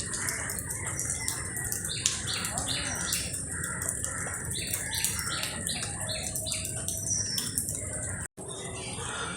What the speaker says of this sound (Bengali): দেখুন প্রচুর ম্যাকাও রয়েছে এখানে, সুন্দর লাল এক্সোটিক ম্যাকাও।